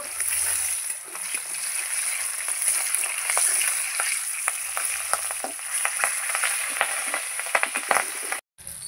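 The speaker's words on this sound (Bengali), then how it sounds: "মাছ ভাজা হয়ে গেছে আমার, তুলে নিচ্ছি।" Pieces of shing fish fry in a pan with a continuous crackling sizzle and frequent sharp spits and pops, close and steady, with brief faint handling noises.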